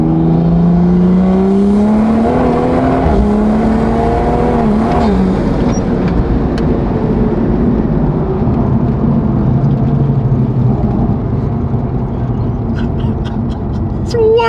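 A Toyota Supra engine making 610 wheel horsepower roars and revs hard, pitch sweeping upward through gears, loud and close, with steady wind and road noise throughout.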